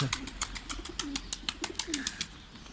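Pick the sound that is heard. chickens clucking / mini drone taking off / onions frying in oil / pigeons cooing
pigeons cooing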